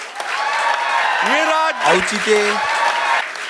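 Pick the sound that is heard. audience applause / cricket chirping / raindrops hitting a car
audience applause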